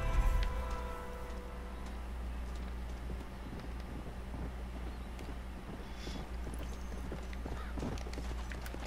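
Rapid hoof clip-clop from a horse at a steady pace in the video game Red Dead Redemption, carried over a constant low engine-like drone, with no voices.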